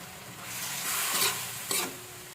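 Shrimp being stir-fried in a pan for pinakbet, a steady close sizzle of frying with scraping stir strokes swelling twice as the shrimp is tossed, no voices.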